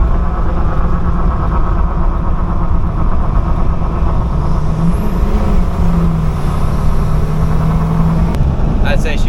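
A 2002 truck with a 7.3 diesel engine pulling away after a rough idle fix, its loud close engine drone steady throughout with a whine rising partway through.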